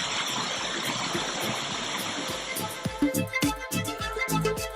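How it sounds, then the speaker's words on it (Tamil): Floodwater at Kalakkad Thalaiyanai rushes loudly in heavy rain, a steady broadband roar of gushing water filling the scene, with sharper splashing bursts toward the end. "இரு கரைகளையும் தொட்டபடி தண்ணீர் சீறி பாய்வதால்"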